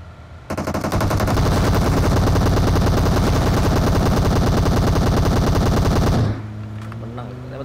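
Sustained, very loud automatic gunfire in the battle game PUBG, a rapid unbroken stream of shots for several seconds before cutting off abruptly, leaving quieter game background.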